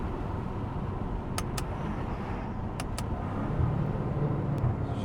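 BMW M5 in sport mode without burbles, a steady loud engine and exhaust drone heard from inside the car while driving, with a few faint clicks and rattles over the continuous rumble.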